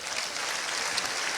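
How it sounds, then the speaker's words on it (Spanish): A church congregation applauds together, a dense steady wash of clapping heard from within the room, moderately loud and continuous without speech. "Un aplauso al Señor."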